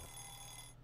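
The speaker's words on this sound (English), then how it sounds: "the little buzzer ding" A short time-up buzzer ding from the video game NeoLemmix rings as a quick bright electronic tone over faint game background, cutting off within a second.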